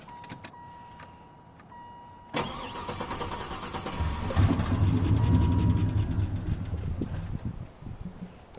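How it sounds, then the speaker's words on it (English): An LS-swapped B-Body car with bad lifter tap fires up after a few faint chimes and clicks, then settles into a loud, close, steady idle with a rough, rattling edge. "I want to say I got lifter tap real bad"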